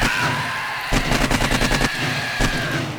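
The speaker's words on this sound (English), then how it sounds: "Alright, let's swap to my AK." AK rifle fire in the video game 7 Days to Die during an insane-difficulty horde night: a rapid automatic burst of loud, cracking shots, then a lone shot, over a steady background hum.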